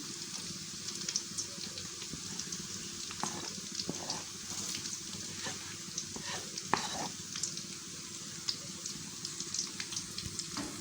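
Shallots sauté in a pan for a green chili and dried shrimp sambal, a steady close sizzle and crackle with occasional stirring scrapes and clinks running throughout.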